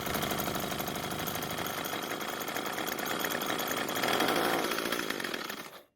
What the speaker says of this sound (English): It wants to start, but I may have flooded the engine